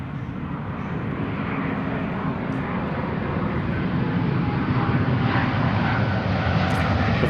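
A Lufthansa jet airliner from Frankfurt comes in to land, giving a loud, continuous broadband engine roar that holds steady and rises slightly throughout.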